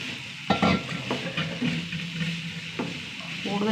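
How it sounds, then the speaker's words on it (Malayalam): Oats are tipped into cooked vegetables in a hot pan and stirred, giving close scraping and clacking stirs over a soft, steady sizzle, with a few louder knocks as the spoon moves. "പച്ചക്കറി നന്നായി വെന്തു. ഇനി നമ്മുടെ ഓട്സ് ഇട്ട് കൊടുക്കാം."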